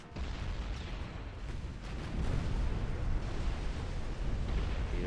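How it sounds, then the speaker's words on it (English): A torpedo strikes a warship in Ultimate Admiral: Dreadnoughts during an Austria versus Italy naval battle, producing a deep, sustained rumbling explosion that swells and rolls on for several seconds. "Torpedo hits, fire flooding."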